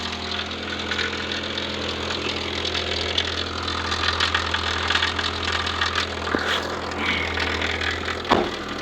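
A car engine idles steadily for several seconds, a loud, constant rumble with some rattling, and no talking over it.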